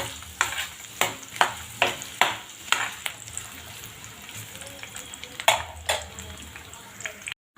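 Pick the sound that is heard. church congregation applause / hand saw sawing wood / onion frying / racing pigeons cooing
onion frying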